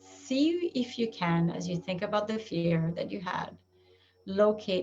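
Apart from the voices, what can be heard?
No distinct noise like a dog, phone or traffic.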